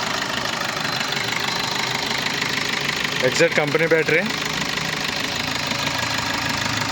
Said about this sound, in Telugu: ఇంజిన్ స్టార్ట్ చేసాం